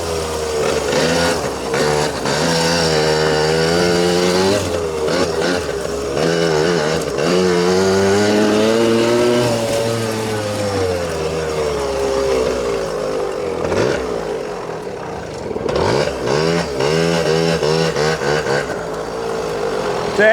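A 40-year-old Yamaha Tri-Zinger trike engine being ridden, a small buzzy motor droning close and loud throughout, its pitch climbing and falling as the throttle changes, with a brief dip in the middle.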